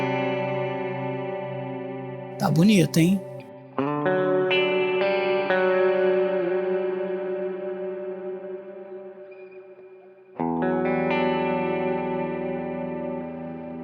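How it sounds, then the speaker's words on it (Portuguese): Electric guitar played through an Ampero II Stomp pedal with a worship-style reverb: sustained chords ring out and decay in long washes, with a brief spoken remark between strums. "Aumentar um pouquinho o mix aqui, que a galera do worship gosta de reverb."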